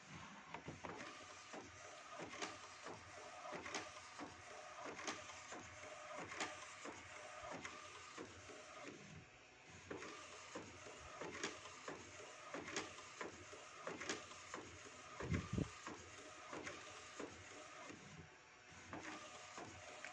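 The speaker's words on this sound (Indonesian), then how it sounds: "Ini kita tes print ya, masih tes print L1300 nya ya" An Epson L1300 inkjet printer runs a test print, its print head shuttling back and forth in a steady repeating rhythm of whirring passes and clicks, close and fairly quiet, with no talking.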